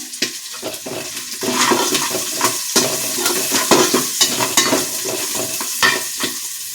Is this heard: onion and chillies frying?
yes